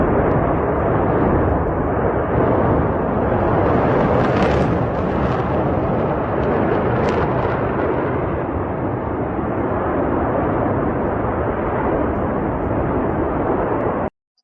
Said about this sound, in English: The explosion of the main gas pipeline near Omsk is burning phenomenally.